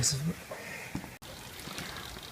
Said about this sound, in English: while the oil is pouring out here